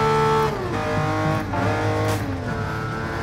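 Engine revs in the GT Sport racing game rise and drop repeatedly as a car is heel-and-toe downshifted, with sharp throttle blips between gear changes, loud and continuous throughout.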